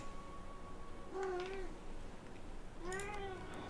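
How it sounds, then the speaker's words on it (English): A pet cat meows twice nearby, each a clear drawn-out rising-then-falling cry about two seconds apart, over a quiet steady room background. "I think my cat wants to go outside."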